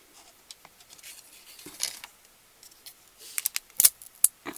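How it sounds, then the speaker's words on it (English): Scissors snip through crisp gingerbread in short, uneven bursts, a few sharp clipped cuts near the end, with quiet rustling in between. "And I'm just going to use a pair of scissors."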